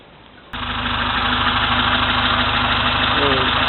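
A VAZ-2101 engine cuts in loudly after a short quiet moment, then settles into a steady, evenly pulsing idle that continues to the end.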